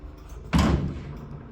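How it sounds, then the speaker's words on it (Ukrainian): A STEELON automatic swing gate with two leaves closes, the second overlapping the first, giving one fairly faint thud-like clunk followed by a short fading rumble. "Двері закриваються спочатку одна, потім нахльост іде друга"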